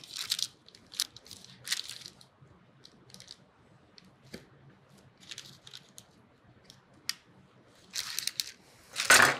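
A knife cuts through pecan bar cookies, producing sparse, crisp crunches and scrapes at irregular intervals against near silence, with a louder cluster of cuts toward the end.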